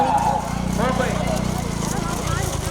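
Bullock hooves clatter in a quick rhythm with rumbling cart wheels during a bullock cart race, while several people shout over the noise.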